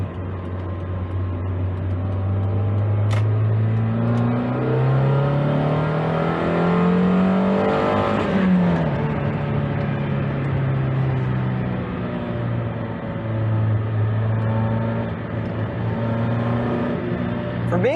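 A stock, rust-free budget Mazda Miata's engine drones steadily from inside the car while driving, its pitch climbing and dropping with acceleration and shifts, loud and continuous.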